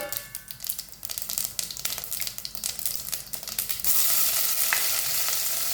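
Onion, curry leaves and fenugreek frying and being stirred for mutton kothu: rapid scraping and clattering of a spoon in the pan over steady sizzling, close by, with the hiss swelling louder toward the end.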